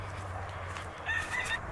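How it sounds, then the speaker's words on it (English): Backyard chickens near a garden and beehives, clucking and calling softly at mid distance against a steady low outdoor hum, with no talking. "Some more chickens."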